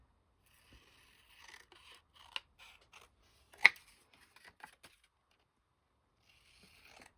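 Scissors cutting paper while working on a journal: a few quiet, separate snips and crisp scrapes spread through a mostly hushed stretch, with one sharper close cut standing out midway.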